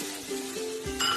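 Cloves, cardamom and cinnamon are stirred in a pan while making pineapple zarda, with a soft sizzle and faint clinks of the utensil against the pan.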